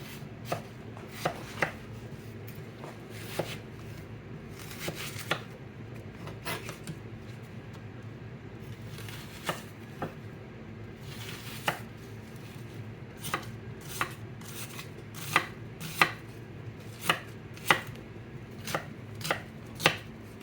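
Onion being chopped into small chunks with a knife on a cutting board, a steady series of sharp, close taps that speed up toward the end, with no talking.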